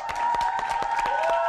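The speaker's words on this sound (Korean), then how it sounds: "자, 박수로 환영하겠습니다" A studio audience on a Korean live variety talk show applauds to welcome a guest: a short, dense burst of clapping with a steady tone running beneath it.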